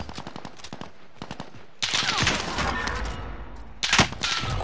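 Gunfire in Call of Duty: Modern Warfare, a team match on PS4: scattered sharp shots give way to a loud, sustained automatic burst and then a second dense volley, with no talk over it.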